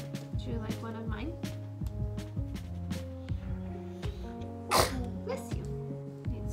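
While someone makes paper mosaic hearts, a single sharp sneeze bursts out at close range over steady background music.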